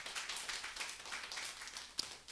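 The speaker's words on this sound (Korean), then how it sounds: "우리 또 아침부터 좀 수고한 분들 계시는데 감사하다고 좀 박수 드리겠습니다" A church congregation at a Sunday service applauds in a soft, continuous patter of many hands, faint and somewhat distant, with no one speaking.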